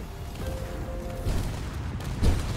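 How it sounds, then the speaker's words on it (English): A small warhead detonates in the Space Engineers game against an enemy base, giving a couple of muffled low booms over a steady game rumble, the strongest burst arriving near the end. "I guess the small warheads don't have the explosion big enough to actually destroy this base here"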